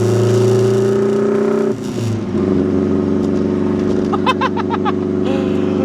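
A Mazda Miata engine, modified to sound like a Subaru, drones with a steady low burble from inside the car, briefly dipping before settling back, with a few clattery chirps near the end.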